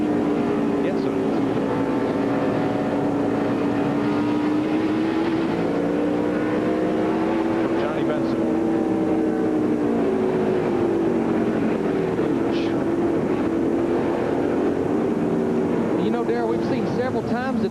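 NASCAR Winston Cup race cars circling Bristol Motor Speedway during the Food City 500, a continuous droning engine roar that rises and falls steadily under broadcast commentary.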